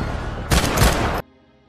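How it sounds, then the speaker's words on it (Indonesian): A sudden burst of loud, rapid pistol gunfire crackles for under a second, then cuts off into a quiet, low hum. "Korkut mencoba menembak musuh menggunakan pistol"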